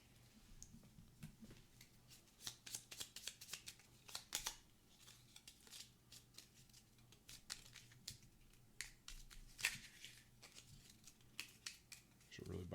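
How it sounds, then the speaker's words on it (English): Gloomhaven: Jaws of the Lion board game cards being shuffled by hand, a quiet run of crisp riffling snaps and slaps repeating irregularly up close for several seconds, with no talking. "And these get shuffled back in."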